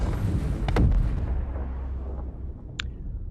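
In a video game, a railgun shot strikes an Idris ship with a heavy booming impact that rumbles and decays over a few seconds, followed by a short bright electronic blip.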